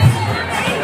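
A dense crowd at the Khatang Rath Yatra festival makes a loud, close wash of shouting and cheering voices in a brief burst.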